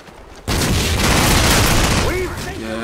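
Legendary M6 gunfire in a video game: a sudden loud, dense burst of rapid shots lasting a couple of seconds, then tapering into ringing tonal effects, with a voice speaking briefly near the end.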